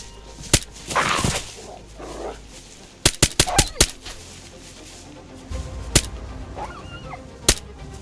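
A dog or wolf in the DayZ video game, with sharp barks and yelps scattered across the clip, including a quick cluster of several in a row, against quiet outdoor ambience.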